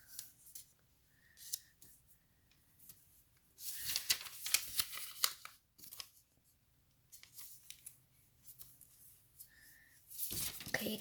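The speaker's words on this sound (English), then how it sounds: "now you're gonna take the points and fold to the center" Sheets of origami paper for a mask are creased and folded in scattered rustling, crinkling bursts with pauses between them, close by, with no voice.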